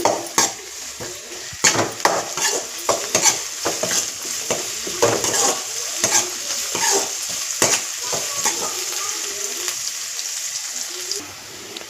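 Garlic, dried chilies and curry leaves fry in a pan, with a constant sizzle under repeated clanks and scrapes of a metal spoon stirring against the pan in an irregular rhythm.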